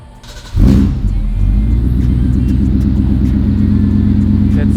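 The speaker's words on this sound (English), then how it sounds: "sweet sound of the Coyote V8." A Ford Coyote V8 engine fires up and settles into a loud, deep, steady rumbling idle, close by, with no talking.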